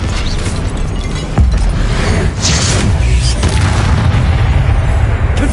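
Expelliarmus spell blast in the video game Hogwarts Legacy, a loud, dense booming burst over continuous rumbling game sound, with a sharper hit partway through and no talk.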